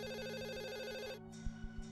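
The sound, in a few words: home landline telephone ringing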